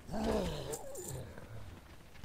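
Several dogs in World of Warcraft: Warlords of Draenor growl and snarl in a rough, throaty rush, loud at first then trailing into lower grumbles, with no talking.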